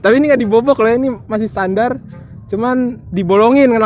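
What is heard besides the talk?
No everyday noises stand out.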